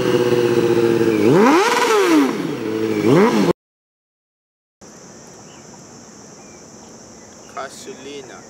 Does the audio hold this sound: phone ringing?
no